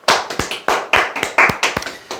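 A small audience at a Korean insurance sales talk claps in sharp, uneven bursts, roughly a dozen distinct close hand claps spread across two seconds, with no talking.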